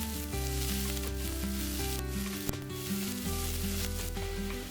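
Corn kernels, chopped carrot, capsicum and beans frying together in a pan, a continuous hiss of sizzling with light stirring under steady background music.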